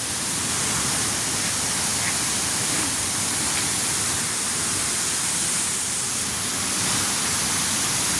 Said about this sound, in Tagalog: nakakatakot, ang lakas ng agos eh.